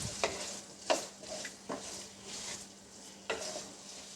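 Potatoes fry in oil in a pan with a soft, steady sizzle, broken by a few scraping stirs of a spoon, close and fairly quiet.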